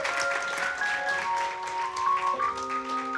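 Audience at a live music session applauding and cheering as a gospel singer takes the stage, a continuous patter of many hands clapping with a few whoops, while soft keyboard notes play underneath.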